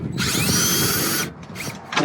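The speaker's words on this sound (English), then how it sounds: "The drill's not strong enough" An electric drill struggles while fitting a dog house, whirring loudly and unevenly for about a second before dropping off, then giving short strained bursts.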